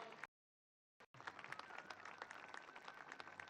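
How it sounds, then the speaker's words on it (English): Steady applause from a large crowd at a university gold medal ceremony, sustained and even after a brief dropout near the start. "A huge round of applause"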